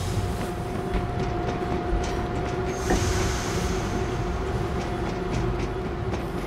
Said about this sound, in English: Get the train going.